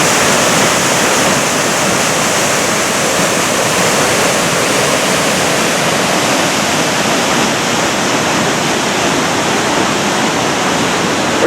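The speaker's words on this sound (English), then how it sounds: "Silver Falls on the Ohanapecosh River." Silver Falls on the Ohanapecosh River pours in a loud, dense, unbroken roar of falling water, heard up close and alone with no voices.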